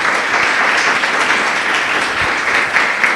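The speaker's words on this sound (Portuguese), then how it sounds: "Louve a Deus com suas palmas." A church congregation claps in praise at the close of a sermon, producing a loud, dense, continuous patter of hands that lasts the whole moment without speech.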